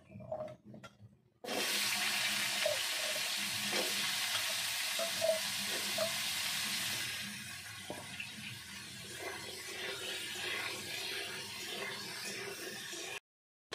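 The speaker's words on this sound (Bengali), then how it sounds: "এবার আলুগুলো ভেজে নেব।" Potatoes frying in hot oil for a vegetarian posto paneer dish. A sudden loud hiss starts after a short quiet opening, then holds steady and settles into a softer bubbling sizzle with faint clinks before cutting off.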